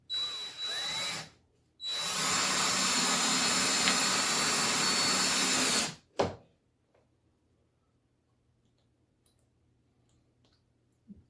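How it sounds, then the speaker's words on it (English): Power drill driving 3-inch screws into a string trellis, heard as a short burst and then a sustained loud whine of about four seconds, stopping abruptly, followed by quiet. "I'm using 3-inch screws for this part."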